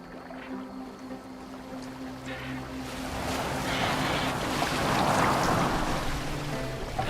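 A boat moving through water gives a steady broad wash of rushing water and hull noise that swells gradually louder midway, with a faint low engine-like hum beneath.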